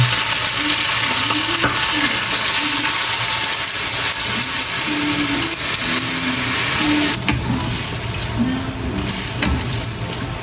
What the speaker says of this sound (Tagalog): kumukulo na po itong ating paa ng manok